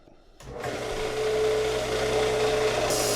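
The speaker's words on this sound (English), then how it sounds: "to finish off the rounding of the plate, we've got the Delta belt grinder. This is gonna get a little bit loud." A Delta belt grinder spins up loudly and runs steadily while rounding the edge of a printmaking plate, a continuous close motor whine with abrasive grinding after a quiet start.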